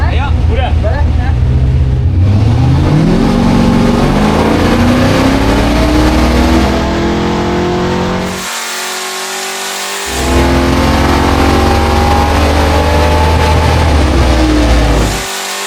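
A car engine at a live drifting session revs hard in long rising sweeps, dropping out briefly mid-way before roaring back up, loud and close with no talk over it.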